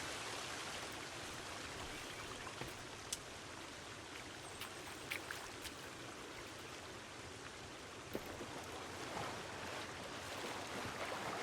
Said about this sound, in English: Look at this pretty waterfall, though.